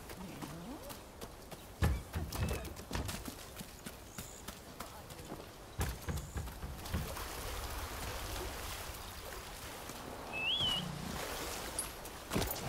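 Galloping horse hooves in the samurai video game Rise of the Ronin, a steady, continuous clip-clop at moderate level, with faint ambient game sounds behind.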